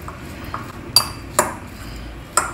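Usal salad ingredients stirred together in a bowl, a few sparse clinks of utensil against the bowl over faint background hiss.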